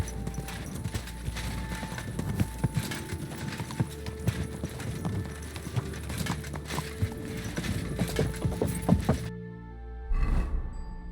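Horse hooves clip-clopping at a steady walking rhythm in the medieval game Kingdom Come: Deliverance II, close and clear over ambient game sound, stopping near the end.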